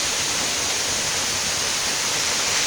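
The Caixa d'Água waterfall near Guarapuava, Paraná, beside the Ferroeste railway, runs heavy with muddy water after a night of storms, its roar a steady, dense, unbroken wash of sound close by.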